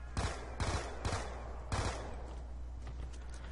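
A submachine gun in Call of Duty zombies fires four short, sharp bursts close by, followed by quieter background game sounds.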